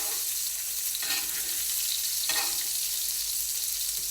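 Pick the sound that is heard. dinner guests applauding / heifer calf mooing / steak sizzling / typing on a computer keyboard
steak sizzling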